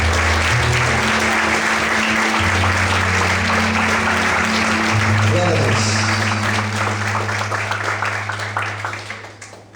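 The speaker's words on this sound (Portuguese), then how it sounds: "Vamos aplaudir bem forte ao Senhor" During a church service, a congregation applauds heavily with a sustained crowd clapping that fades near the end, while a low steady tone hums underneath and a voice speaks briefly over it.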